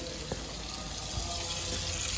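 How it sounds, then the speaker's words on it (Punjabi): Water runs steadily from a leaking source outdoors, a continuous close hiss and trickle with a couple of faint knocks, no voices. "ਆਹ ਪਾਣੀ ਲੀਕ ਕਰ ਰਹੀ"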